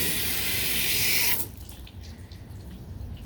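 Water sheets off a hybrid ceramic-coated car in a loud, steady hissing rush for over a second, then cuts off abruptly, leaving quiet drips and faint background.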